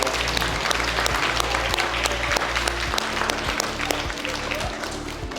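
At a fifth-grade D.A.R.E. graduation, a crowd in a school gym applauds the Elyria Police Department with steady, dense clapping from many hands over a low hum.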